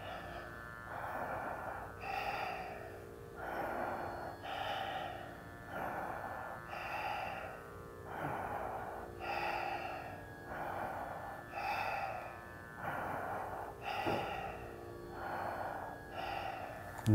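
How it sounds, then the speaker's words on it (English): Slow, deep breaths during a seated yoga spinal twist, each inhale and exhale drawn out and audible, repeating in a steady rhythm of about a dozen cycles, close and alone with no speech. "Looking up, twist your spine. Longer, happy breath."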